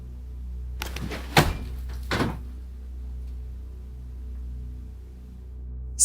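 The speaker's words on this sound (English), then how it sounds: "the door next to him closes with force" A door thuds shut with force, giving two dull knocks close together against an otherwise quiet room with a low background hum.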